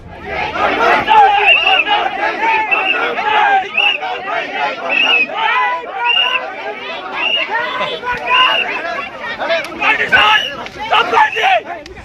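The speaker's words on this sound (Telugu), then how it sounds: "ఇరువైపులా గుంపును చెదరగొట్టేందుకు పోలీసులు స్వల్ప లాఠీచార్జ్ చేశారు" A crowd of Congress and BRS party workers clamours as police disperse them with a light baton charge, a dense continuous babble of many shouting voices that holds steady loud throughout.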